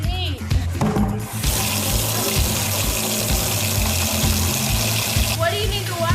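Water runs from a tap to be mixed with plaster and sand, a steady broadband rush filling most of the stretch while people speak over it.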